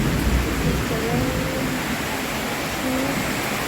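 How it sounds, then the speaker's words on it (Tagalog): Heavy rain pours in a steady, dense hiss that fills the whole scene at close range, broken only by a few faint, brief tones. "So raining. This is the rain."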